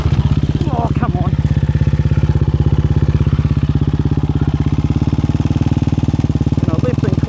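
A hard enduro motocross motorcycle engine thuds steadily at low revs on a steep mountain trail, loud and close with a rapid pulsing beat, while a rider's voice briefly cuts in over it.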